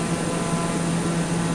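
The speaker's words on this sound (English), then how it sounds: "This sounds more like an aeroplane now." Propeller airplane engine in Microsoft Flight Simulator, a steady loud drone with a low hum held evenly throughout, no talk over it.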